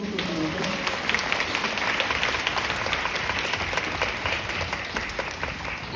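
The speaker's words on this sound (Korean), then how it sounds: "박수 한번 부탁드립니다." An audience at a film-festival Q&A with short films welcomes director Hong Kyung to the stage with steady applause, a dense wash of many hands clapping that fills the whole stretch at an even level.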